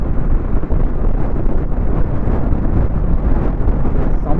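Strong coastal wind at Dhanushkodi, near Rameshwaram, roars past a motorbike moving at about 50, giving a loud, continuous low buffeting rumble with no break.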